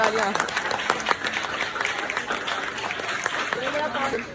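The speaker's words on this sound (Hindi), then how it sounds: "तालियां" Applause rises from a gathering at a school farewell party, a steady clatter of many hands under overlapping voices and chatter, moderately loud from start to finish.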